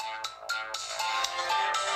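Ringtone from the Elephone G7 phone's bottom speaker at max volume: a bright melodic sequence of repeated tonal notes with sharp onsets, loud and alone.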